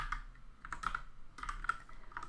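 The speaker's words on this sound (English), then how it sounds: "I can just start typing interactive commands" Computer keyboard typed on at a desk while entering interactive Python debugger commands, a quick run of soft clicking keystrokes in uneven bursts, close and fairly quiet, with no speech.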